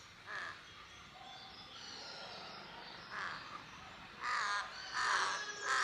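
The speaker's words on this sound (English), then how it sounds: "look at this crow" A crow near grazing goats gives several harsh caws, a few single calls and then a closer double burst, over faint outdoor ambience.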